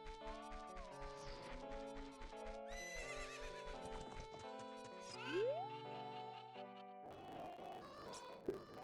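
A horse in Zelda Ocarina of Time gives a loud, rising whinny midway through, layered over steady game music, with hoof clip-clops in the mix.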